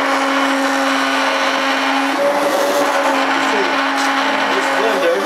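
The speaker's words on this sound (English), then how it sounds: "This blender will grind up all the sauce." A kitchen blender grinds pizza sauce with a loud, steady motor whine that shifts pitch partway through as the load changes.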